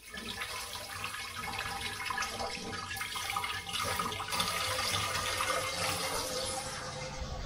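Cold water runs from a kitchen tap over someone's fingers in a steady continuous stream, close and fairly quiet, with no talking.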